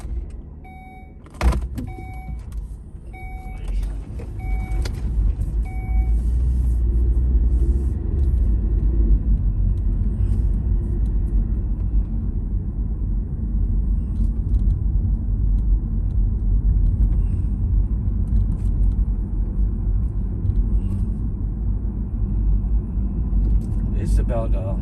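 A car driving along a road in Tioga County, Pennsylvania, heard from inside the cabin. After a few clicks and rattles at the start, a steady low engine and road rumble runs throughout at a constant level.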